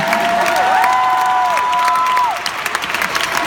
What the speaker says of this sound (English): another huge round of round applause for these two very tall gentlemen